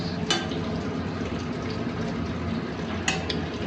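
Meat for chilli chicken fries in a pan at home, a moderate steady sizzle and bubbling with a couple of brief sharp clinks from utensils, no voices.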